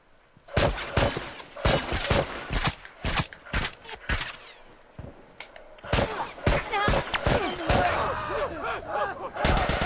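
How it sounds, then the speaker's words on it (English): Assault rifle gunfire in The Last of Us game: loud, close bursts of rapid shots and single cracks repeat throughout, with brief gaps between volleys. "Fucking assault rifle, that's good."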